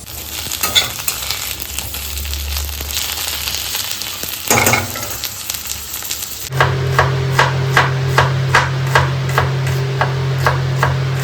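Pointed gourd (potol) fries in a pan with a continuous sizzle and occasional stirring. Partway through, a low steady hum appears and a quick series of rhythmic scraping strokes follows, loud and close.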